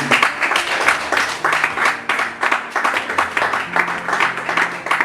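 A church congregation claps together in a loud, close burst of applause with a steady rhythmic pulse that continues throughout.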